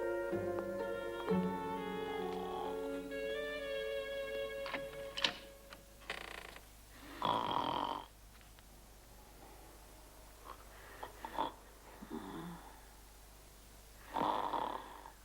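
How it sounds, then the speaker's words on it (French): A sleeping housemaid snores in slow, breathy rasps spaced several seconds apart, faint against a quiet room with a few soft ticks and creaks between breaths. "Nous avons entendu ce ronflement déjà."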